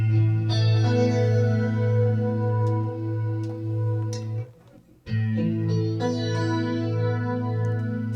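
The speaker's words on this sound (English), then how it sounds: "This is chorus." Sustained instrument tones swirl with a shimmering chorus effect, rich and wavering, broken by a short near-silent gap before the swimmy chorded sound resumes.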